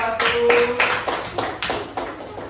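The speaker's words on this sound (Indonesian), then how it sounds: "Beri tepuk tangan untuk kelompok" A school class claps for a couple of seconds, sharp hand claps bunched together at first and then thinning out into a few scattered claps.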